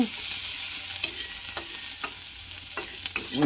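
Onions and green chillies frying lightly in a pan give a steady soft sizzle, broken by a few spatula scrapes and stirs at irregular moments; no voices.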